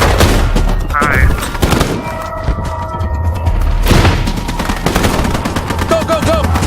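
Video game gunfire during a battle to retake an overrun city, with loud bursts and booming shots in the near field over a constant rumbling background, plus shouted voices and radio-like chatter mixed in.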